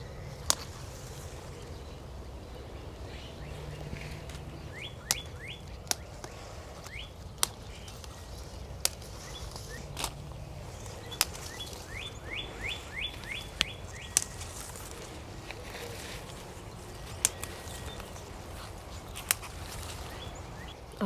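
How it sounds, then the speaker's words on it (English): Birds chirp and sing outdoors on an early morning in a garlic garden, with short repeated bird calls scattered throughout and occasional sharp clicks over a quiet background. "It's cool, the birds are out"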